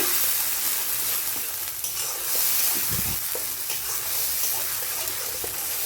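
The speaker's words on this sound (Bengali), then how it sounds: "এটাকে একটু ভালো করে আমি তেলের উপরে কষিয়ে নেব" Ginger, garlic, onion and tomato paste frying in oil for egg ghugni, a loud sputtering sizzle with scraping stirs and a dull thump midway, heard up close without talk.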